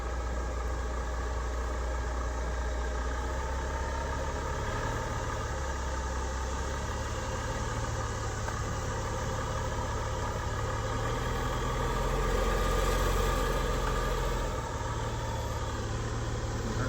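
A Prevost bus engine rumbles deep and steady, close by, as the bus rolls slowly across a new driveway, the drone swelling slightly near the end; no talking.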